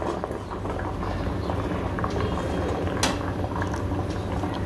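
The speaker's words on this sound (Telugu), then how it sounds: "ఇడ్లీ స్టీమర్ కానీ ఏదో ఒకటి పెట్టుకొని అది ముందు నీళ్లు పోసుకొని మరిగించుకోవాలి." Water boils inside an idli steamer, a dense continuous bubbling and rumbling with a brief sharp clink partway through; no voices.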